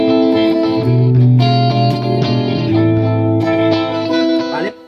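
Clean electric guitar amp tone with the distortion pedal switched off, low drive, ringing sustained notes and chords with a soft, smooth character, played alone and fading out at the end.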